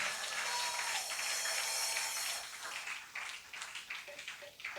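A church congregation claps together during a Sunday worship service, a dense continuous patter of many hands that fades and thins toward the end.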